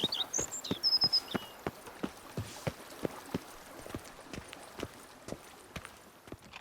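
Horse hooves gallop in a quick, steady clopping rhythm, fairly close, with a few faint bird chirps at the start, in the video game The Witcher 3: Blood and Wine.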